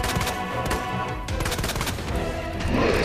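Gunshots in a Resident Evil 2 Remake boss fight, a quick continuous run of sharp shots over dense game noise, fairly loud throughout.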